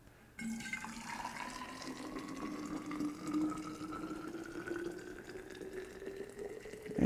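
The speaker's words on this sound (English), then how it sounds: "let's see if I can pour that in my thermos without making a mess all over the counter" Just-boiled water poured from a kettle into a thermos on a kitchen counter, a steady gurgling stream whose pitch rises smoothly as the flask fills, close and continuous for several seconds, no talk.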